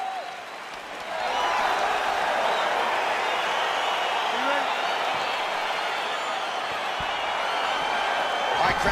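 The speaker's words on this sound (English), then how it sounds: "crowd getting excited as this fight gets underway" An arena crowd roars at the start of a fight in the EA Sports UFC 4 video game, a broad sustained wash of cheering and applause that swells after the first second and holds loud to the end.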